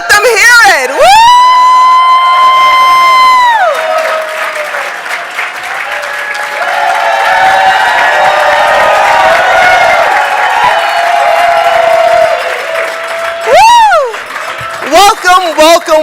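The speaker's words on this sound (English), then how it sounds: "Let's get clapping. Let them hear it." A gala audience breaks into loud, sustained applause and cheering, with whoops, while a host's amplified voice rings over the crowd at the start and again near the end.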